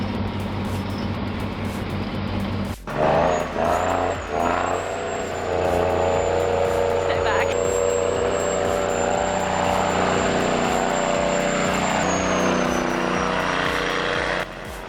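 Turbocharged loader engine working at an Arctic mine, a loud, close, sustained diesel drone with a sharp change near the start, then a high turbo whine holding steady over the rumble.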